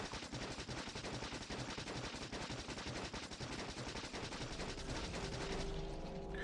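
Rapid automatic gunfire from turrets in the video game Factorio Space Age rattles in continuous dense bursts, loud and close, easing slightly toward the end with a low hum underneath.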